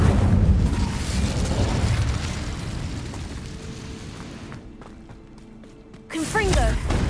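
An Incendio fire spell is cast in the Hogwarts Legacy video game: a steady, dense roar that thins out, then a sudden loud burst of flame with sharp crackling near the end.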